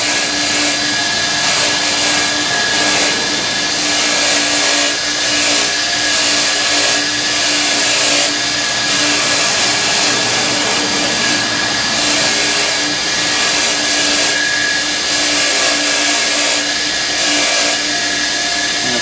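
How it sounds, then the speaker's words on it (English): An angle grinder fitted with a wire wheel scrubs track parts clean, a continuous, close, loud whirring whine with slight fluctuations and no speech. "just take a grinder, the wheel on it"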